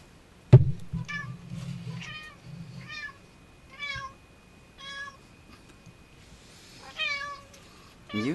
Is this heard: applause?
no